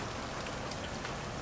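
Steady rain falls outdoors during a backyard cookout with charcoal, a continuous even hiss of drops hitting surfaces with no voices.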